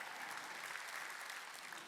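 A church congregation at a Wednesday worship service claps together in a steady, uniform roar of many hands, fairly faint and distant, running unbroken from start to finish.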